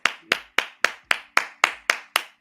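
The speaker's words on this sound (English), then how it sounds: "Jesus and Brian, thank you for clapping." Hands clap in a steady, even rhythm, nine sharp claps a little over a quarter second apart, close and fairly loud with no voices over them.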